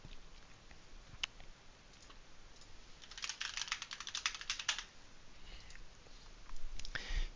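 Keys clatter on a computer keyboard as chat commands are typed into Minecraft, a scattered few presses at first, then a dense burst of rapid strokes, and a final flurry near the end; quiet and close, with no talking.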